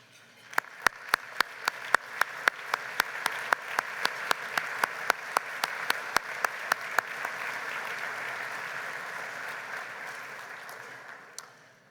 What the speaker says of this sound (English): would you please stand and let us give you some applause.